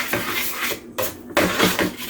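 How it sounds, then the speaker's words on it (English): A spoon stirs mashed potatoes in a pot as saffron chicken is cooked, giving repeated close scraping and soft squelching strokes with short pauses between them, no talking. "At this point, the potatoes are mashed, so I just need to stir them."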